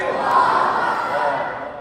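Crowd shouting takbir in unison at a nasheed event, a sustained loud massed cry of many voices filling the room throughout.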